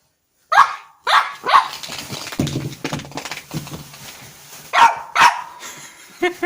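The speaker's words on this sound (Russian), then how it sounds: "Боже, я еще не слышал, что он на игрушку гавкал." A chihuahua barking at a toy in sharp, close yaps, several in a quick burst, then a pause with softer whimpering and snuffling, then more barks.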